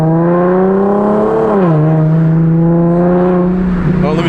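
Very loud, close exhaust drone from an Infiniti G37 fitted with test pipes, a steady heavy rumble that rises in pitch, dips, then holds.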